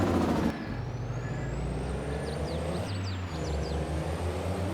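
A truck with air brakes in a farming video game: a loud hiss of brake air opens the sound, followed by a steady engine rumble and a faint high tone drifting above it.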